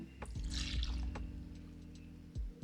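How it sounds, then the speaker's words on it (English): Orange juice poured in a big splash into a jerk chicken marinade, a short liquid gush with a few drips, close and alone. "I'm going to add a big splash of orange juice"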